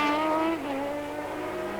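Benetton Formula 1 race car from 1988 at the San Marino Grand Prix going off the circuit, a loud high-pitched engine whine that drops in pitch, steady and close with no talk.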